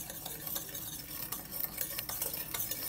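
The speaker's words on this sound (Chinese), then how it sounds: "那我们开始来搅拌一下" Sugar stirred into vinegar to melt it, a soft, steady scraping and swishing of a utensil in a bowl with irregular light clinks, faint and alone.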